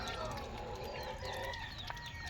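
Pet chickens clucking and squawking while being fed outdoors alongside ducks, a close, busy mix of overlapping clucks and short calls with a brief crow-like note and a steady background hum.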